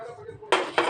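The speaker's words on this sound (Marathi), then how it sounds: "हे ढवायचं, चमच्याने जर चांगलं ढवायचं." A spoon strikes and scrapes a metal pot of prawn curry with kokum: two quick, loud, close clanks after a brief quiet hum.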